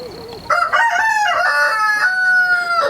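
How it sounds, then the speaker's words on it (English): A rooster crows loudly and close by in a chicken yard, with long sustained calls over other excited chickens clucking nearby, no talk. "Chickens are excited."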